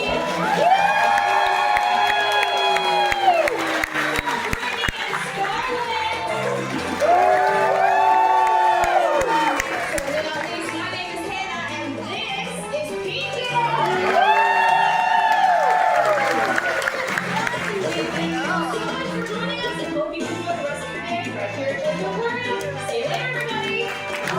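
Audience at a sea lion show at an aquarium, with loud crowd applause and cheering in swelling waves, whoops and children's shouts rising over the clapping, and amplified voices heard intermittently.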